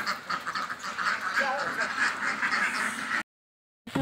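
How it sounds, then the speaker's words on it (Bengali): Ducks being bought at a market quack in a busy chorus of repeated nasal calls amid crowd noise, fairly close, before a brief cut to silence near the end. "এখান থেকে দেখে দেখে আমরা 10টা হাঁস কিনেছি।"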